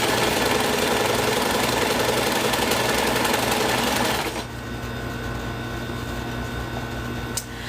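A sewing machine runs steadily at stitch width 2 with a loud, even mechanical whir for about four seconds, then drops to a softer hum with a faint click near the end.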